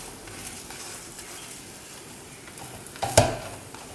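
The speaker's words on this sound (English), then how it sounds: "So now we will fry the other side." A Chinese spring onion pancake fries on its second side in a pan, producing a steady close sizzle with a sharp clatter and louder burst of frying near the end.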